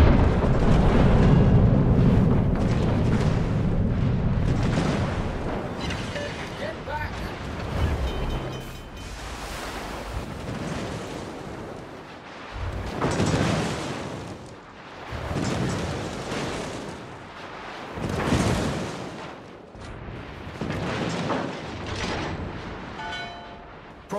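Battleship main guns firing in World of Warships aboard the St. Vincent, heavy booming blasts rolling out at intervals of several seconds over a constant roar of wind and sea, with no speech.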